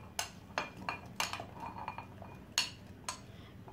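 Chopped, peeled apple pieces drop into a bowl in a series of light clinks and taps, irregular and close, quiet with no talking.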